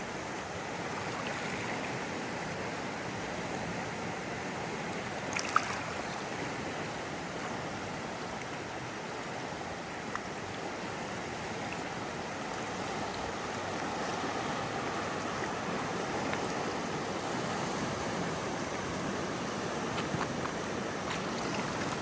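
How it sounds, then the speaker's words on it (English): The South Santiam River flows past a campground trail, a steady, moderate rushing of water that runs unbroken throughout, with a couple of faint knocks and no talking. "And you got South Santiam River right here."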